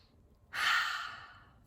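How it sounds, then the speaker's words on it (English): One big deep breath is drawn in and let out, a single airy rush that rises suddenly and then fades gently over about a second, close and clear in a quiet room. "Take a nice big deep breath."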